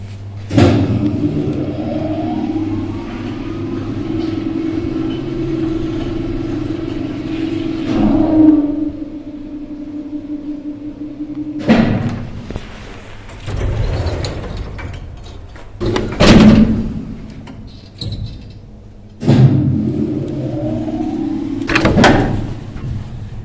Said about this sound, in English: let's have a ride on top of the lift